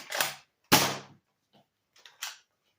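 Adventure Force Nexus Pro foam dart blaster firing and feeding darts: two sharp, close mechanical clacks followed by fainter clicks and a final snap, spaced unevenly with quiet gaps.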